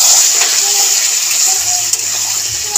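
Warm water pours steadily into a pan of prawn curry (chingri kosha), a continuous close hissing splash that runs through without a break, with no talk over it.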